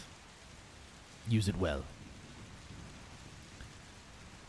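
Steady rain falls as a soft, even hiss throughout, while a voice speaks briefly near the middle over the constant patter.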